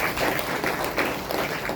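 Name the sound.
audience applause, clapping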